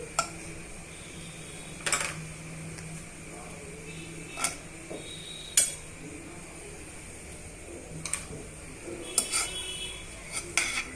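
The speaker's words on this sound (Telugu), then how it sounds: "కిస్మిస్ని కూడా యాడ్ చేసుకొని ఇవి రెండు కూడా బాగా మిక్స్ చేసుకొని వేయించుకోవాలండి" Cashews and raisins are stirred with a metal spatula in a pan over a low flame for semiya kesari. Sharp clinks and scrapes come every second or two over a quiet background.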